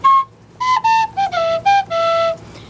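A tin whistle plays a short melody of clear, breathy sustained notes with small pitch slides, close and loud, several phrases separated by brief pauses.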